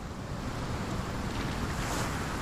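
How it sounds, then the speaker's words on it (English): Ocean waves beside a lighthouse among wrecked ships in Sherlock Holmes: The Awakened, a steady broadband wash of surf and wind, loud and unbroken with no voices. "Ooh, look at the ocean."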